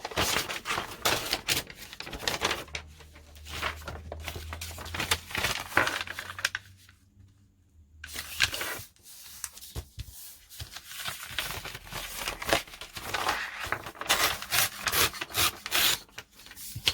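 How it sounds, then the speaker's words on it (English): Sheets of coffee-dyed old book page paper being handled up close, giving a steady run of dry rustling, rubbing and crinkling with a short quiet pause midway. "grabbing some coffee dyed paper"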